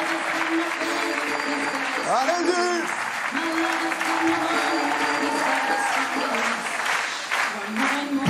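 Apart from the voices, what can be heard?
audience applauding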